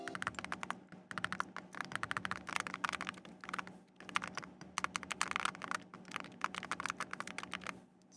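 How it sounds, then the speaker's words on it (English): Rapid, crisp clacking of custom mechanical keyboard switches being typed on, steady bursts of close keystrokes with brief pauses, no voices. "this is my new custom keyboard"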